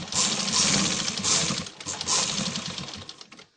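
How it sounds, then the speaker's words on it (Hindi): A sewing machine runs in fast, steady bursts while stitching over elastic on palazzo pants, with a brief pause in the middle. The rattling whir is close and fairly loud. "अब हमने इस पे लास्टिक के ऊपर सिलाई लगानी है।"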